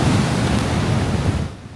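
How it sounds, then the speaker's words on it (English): Rough winter ocean surf rolls in at Ocean City, a steady loud wash of crashing waves with wind noise that drops off near the end. "You can hear the waves crashing in Ocean City."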